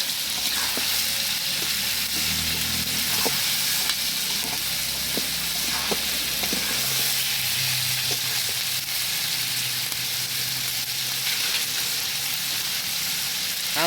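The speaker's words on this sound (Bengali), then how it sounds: "আলু আর পেঁয়াজ দিলাম তেলের ভিতরে। তেলের ভিতরে দিয়ে ভাজা ভাজা করবে।" Potatoes and onions fry in oil in a pot over a wood-fired stove, a steady close sizzle with occasional crackles and stirring scrapes throughout, no talking.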